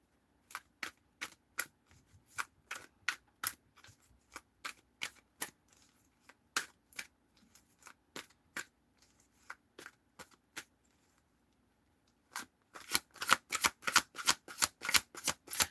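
Tarot cards being shuffled in quick sharp riffles, a steady run of crisp snaps close by that briefly pauses, then returns as a denser, louder burst of rapid riffling at the end.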